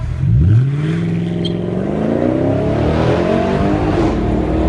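A loud Mercedes CLS AMG V8 engine revs hard, pitch climbing smoothly to about 7,200 RPM into a high, raspy exhaust scream that holds steady.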